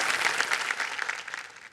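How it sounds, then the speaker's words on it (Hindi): A short burst of studio audience applause on Kaun Banega Crorepati, fairly quiet, thick clapping that thins out as it dies away. "एक बार जोरदार तालियां हम बजाना चाहेंगे इस सोच की"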